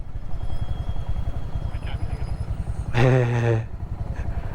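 A fully loaded touring motorcycle rumbles steadily nearby on a desert ride, a low throbbing engine beat that continues throughout while a brief tonal sound rises over it midway.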